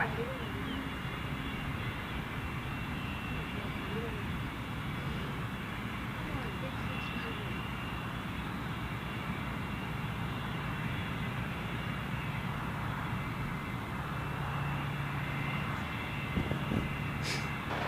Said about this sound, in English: I can just hear a jet.